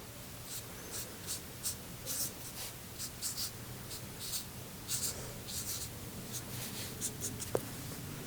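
A pencil sketching strokes on paper, producing a series of short, rhythmic scratchy swishes close up, repeated roughly every half second over a quiet background with no talking.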